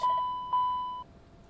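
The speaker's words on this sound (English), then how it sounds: "All right, and fire detection warning test." Two electronic warning tones sound during a fire detection test in the cockpit of a CL650 business jet in the X-Plane 12 flight simulator, each a steady high beep of about half a second, back to back, clean and alone.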